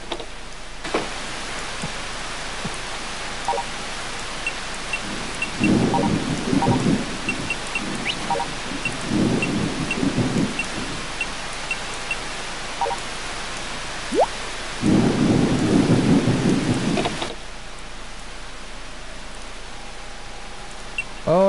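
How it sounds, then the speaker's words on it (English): Video-game rain, a steady rushing hiss, runs throughout, with several low thunder rumbles swelling through the middle and a longer roll near the end before the rain returns alone. "Why is it raining again?"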